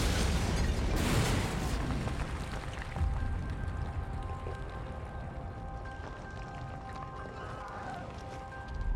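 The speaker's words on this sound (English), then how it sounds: "Aftermath of the explosion, panicked Nazis race to locate Hitler" A loud bomb explosion inside the Wolf's Lair bunker complex bursts near the start, followed by a low, lingering rumble and scattered debris-like crackling as it fades.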